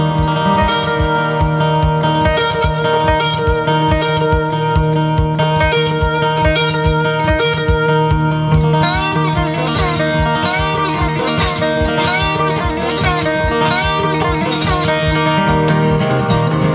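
The Panama Limited train whistle, imitated on guitar to sound more lonesome: a continuous rhythmic strummed pattern with sustained, wavering high tones and bends rising through the second half, loud and without talk.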